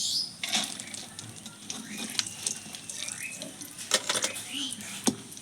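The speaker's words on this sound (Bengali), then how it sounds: "এইভাবে বাদামটা ভেজে নেব" Peanuts frying in oil in a pan over a low flame give a soft, continuous crackling hiss with scattered sharper pops and bursts, close by and fairly quiet.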